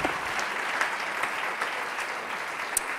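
A church congregation applauds during a Spanish-language sermon, soft, even clapping that sounds somewhat distant, with a few louder claps standing out.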